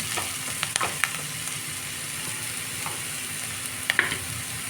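Gram flour fries in a pan with a steady low sizzle and occasional faint clicks and scrapes of a utensil, close but quiet, with no voices.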